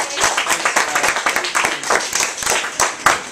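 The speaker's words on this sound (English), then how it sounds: "let's please give a round of applause to Mr. Ben" An indoor audience applauds a speaker, with dense, brisk clapping from a modest crowd that is close and steady, swelling and dipping slightly over a few seconds.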